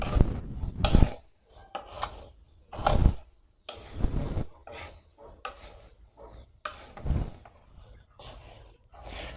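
Sticky rice with lemongrass and kaffir lime leaves is dry-roasted in a pan over low heat, producing repeated close, rasping scrapes and rustles as it is stirred in uneven strokes.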